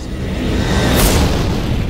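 One deep, loud cinematic boom swelling into a rumbling burst that peaks midway, with nothing else heard.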